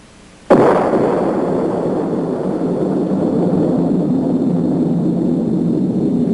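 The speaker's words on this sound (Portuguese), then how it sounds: "A primeira explosão atômica chocou o mundo." An atomic bomb explosion from a Disney educational film on the atom bursts in with a sudden loud blast, then rolls on as a sustained, dense rumbling roar for several seconds without fading.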